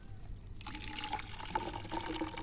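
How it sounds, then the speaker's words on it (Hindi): Water poured into a bottle to mix with pesticide, a steady close splashing fill that starts softly and turns fuller partway through, continuing alone without talk. "इसमें लगभग आधा किलो या 600 ग्राम पानी डाल देंगे"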